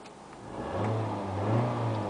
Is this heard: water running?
no